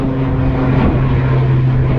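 An airplane just after takeoff from Leeds Bradford Airport, heard from a nearby hilltop viewpoint in Carlton, produces a loud, steady engine drone with a low hum that holds constant throughout the brief stretch, with no voices.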